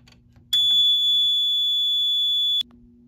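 A Fire-Lite MS-4424B fire alarm panel gives one steady, pure electronic tone on system reset, lasting about two seconds and beginning and ending abruptly, while a low hum continues underneath.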